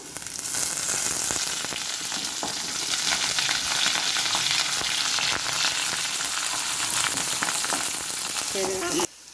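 Curry leaves frying in hot oil after golden browning, a loud, crackling sizzle that holds steady for several seconds before cutting off abruptly at the end.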